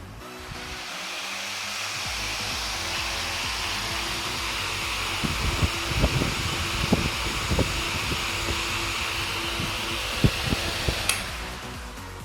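A vintage 1950s IEW Tara 16-inch DC table fan runs at a single speed, giving a steady close whoosh of moving air over a low motor hum, with a few faint rattles and knocks.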